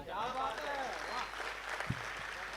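An audience at a Pant Nagar mushaira poetry gathering claps in a steady patter that runs beneath a voice speaking over the crowd.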